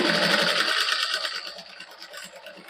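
A sewing machine runs a short burst stitching a finishing strip onto a suit, a steady close whirring that slows and softens toward the end.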